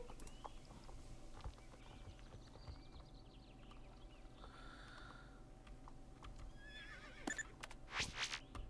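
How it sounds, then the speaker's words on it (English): A horse in a video game whinnies loudly while rearing near the end, over a steady bed of background ambience and faint hoof-like clatter. "And rear with your horse."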